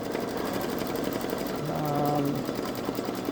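Baby Lock Solaris Vision embroidery machine stitching fill and underlay stitches into stretchy fabric, a steady close mechanical whir with rapid needle rhythm throughout, a faint tonal hum rising briefly in the middle.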